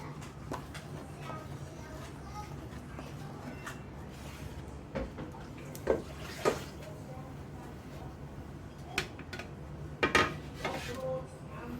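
A utensil stirs a yeast mixture in a bowl for soft pizza dough, making faint, scattered clinks and scrapes against the bowl over a low, steady room background.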